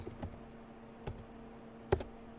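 Sparse keystrokes on a computer keyboard as a browser address is typed: a few separate clicks spread out, with one sharper tap near the end, close up and quiet, no voices.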